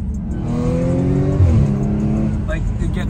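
A modified Audi B8.5 S4 accelerates hard on back roads, with engine pitch climbing steadily, dropping at a shift and climbing again, heard from inside the car with a voice talking over it.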